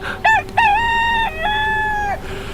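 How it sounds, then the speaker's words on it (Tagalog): A rooster crows loudly and close by, a long, clear cock-a-doodle-doo with a short opening note and a drawn-out ending. "Kasabay ng pagtilaok ng manok"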